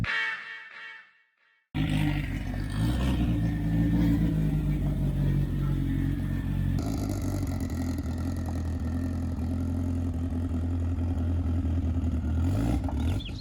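A tuned 2008 Mitsubishi Evo X street car: after a brief quiet moment its engine bursts in loud and close, a heavy sustained roar that then rises further, with no talk over it.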